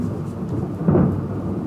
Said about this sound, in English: I don't know if my mic picked up the thunder